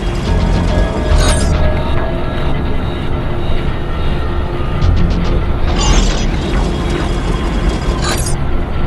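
A machine powering down in the first-person action game Ghostrunner, with loud, steady mechanical grinding and ratcheting and a few sharp metallic bursts over continuous game noise, no talk.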